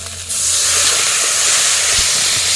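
Turmeric, cumin, salt and a splash of water hit hot oil with a sudden loud burst of hissing sizzle that holds steady and close.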